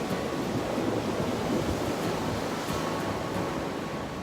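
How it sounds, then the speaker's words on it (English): At high tide, waves crash against rocks on the shore, giving a steady, loud roar of surf and spray with no pauses or voices. "individual bits of rock are getting absolutely hammered by the high tide"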